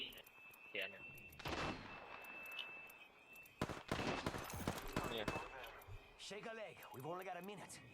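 Gunshots in the shooter game Apex Legends ring out as scattered sharp cracks and short bursts, heard mostly under people talking.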